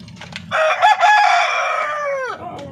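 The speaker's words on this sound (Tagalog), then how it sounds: "ito pa rin yung ating mga darag na breeder. Eh, mas, masisipag umitlog" A Darag native chicken breeder crows loudly and close by, one long drawn-out cock-a-doodle-doo that trails off, with soft clucking from the flock before and after.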